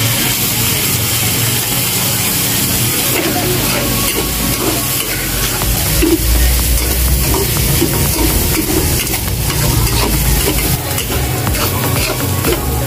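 Beef stir-fries with soy sauce in a hot pan, giving a loud, continuous sizzle and hiss with occasional scraping from stirring, steady throughout with no talking.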